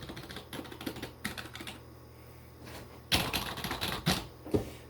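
Typing on a membrane computer keyboard, heard up close in irregular bursts of soft key presses, with a louder flurry of keystrokes near the end; no one talks.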